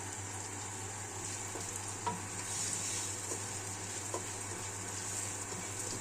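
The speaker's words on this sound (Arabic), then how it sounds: "هنقلب كده لحد ما تحمر شويه، وبعد كده هنسقط المكرونه" Vermicelli fries and is stirred in a single pot while Egyptian koshari is being cooked. A steady sizzle runs throughout, broken by occasional soft scrapes from the stirring.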